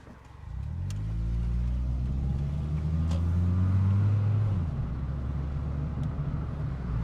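Engine rumble from a modified Toyota Celica TRD, a steady, rich low drone with rising harmonics as the car accelerates, then easing off near the end while it keeps driving; no talk.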